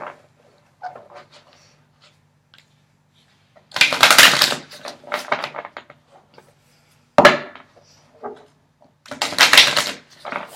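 Cards shuffled for an advice-card reading, heard as several short, crisp riffling bursts separated by near-silent pauses, close and clear.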